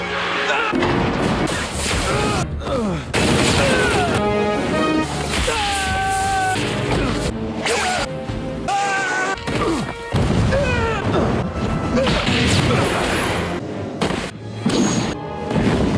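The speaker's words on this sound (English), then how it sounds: "a good old explosion hurt our boy" Explosions and crashing impacts from the video game Superman 64 come as dense, loud booms and smashes over game music and effects, continuous and close, with voices faintly mixed in.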